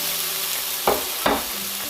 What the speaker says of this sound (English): in the pan, I'm gonna put the onions and tomatoes